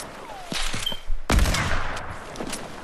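Gunfire in a first-person shooter free-for-all sniper match: scattered shots through the clip, with one loud, sharp rifle crack about halfway in, ringing over a busy in-game background.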